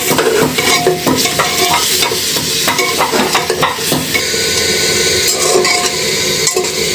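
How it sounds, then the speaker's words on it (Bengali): Whole spices such as cinnamon and bay leaf, along with mixed masala, stirred and fried in a pan for duck curry, with continuous loud sizzling and repeated scraping and clinking of a spoon against the metal pan. "এটা আমি খুব ভালোভাবে কষিয়ে নেব"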